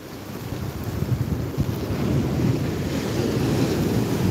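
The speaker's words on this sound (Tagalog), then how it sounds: "Narinig nyo naman ang lakas po ng halon, ay napakalakas talaga." Strong storm-surge waves crash against a seaside boulevard in Bicol, Philippines, a loud, continuous roar of surf with heavy wind buffeting the microphone. No one speaks.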